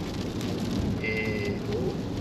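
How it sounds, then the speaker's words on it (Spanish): A heavy rainstorm pounds steadily on a vehicle driving along a road in Alberta, a dense, constant close hiss of rain with faint road noise underneath. "Entramos en Alberta recién, con tremenda tormenta de lluvia"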